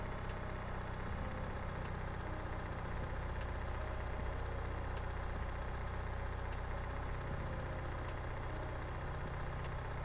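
Tractor engine idling in the Farming Simulator 22 video game, a steady low rumble that runs unbroken and fairly loud for the whole stretch with no talk over it.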